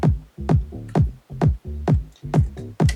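Tech house kick drums with the low end cut below 150 Hz, thin punchy hits repeating in a steady four-on-the-floor pattern with short tonal tails, close and clear with nothing else.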